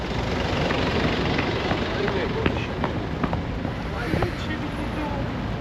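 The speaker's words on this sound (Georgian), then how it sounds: "ხმას დავადებ ძრავის" A car engine idling close by, a steady low rumble that runs unbroken through the whole stretch, with gusty wind noise over the microphone.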